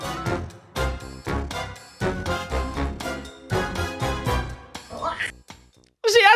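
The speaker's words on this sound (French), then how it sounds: "je vous demande toute votre attention pour ce nouveau jingle avec une fin" A short, punchy musical jingle plays in rhythmic bursts with bright, chiming tones, then thins out near the end before a new, differently pitched flourish closes it as a modified ending.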